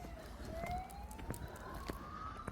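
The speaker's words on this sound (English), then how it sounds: "I hate it when the sirens interfere with the soundtrack" A police-style siren wails faintly in the distance during a dog walk in Trentham, rising slowly in pitch over light outdoor noise and footsteps.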